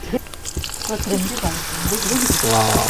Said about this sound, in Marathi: मस्त फोडणी बसलेली आहे